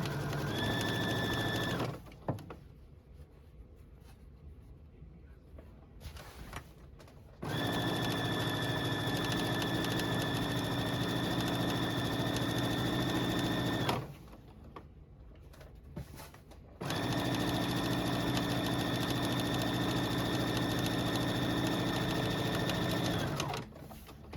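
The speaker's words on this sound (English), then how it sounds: "I'm going to stitch that at a 5/8 seam allowance right down the front there." A sewing machine stitches a 5/8 seam down a shirt front in three steady runs, each several seconds long, separated by short quiet pauses, close and clear with no talk.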